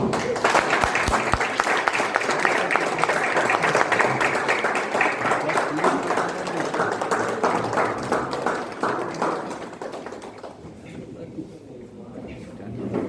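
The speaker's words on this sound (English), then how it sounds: "would request all of you to join me in giving a round of applause" Sustained round of applause from the audience at a school farewell ceremony, many hands clapping densely and loudly for about ten seconds before thinning and fading out near the end.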